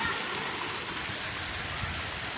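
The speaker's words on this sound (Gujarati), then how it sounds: "જુઓ જો કેવો વરસાદ છે." Heavy rain pours down in a village street, a dense, even hiss of water striking the ground that carries on steadily throughout at moderate loudness, with no voices.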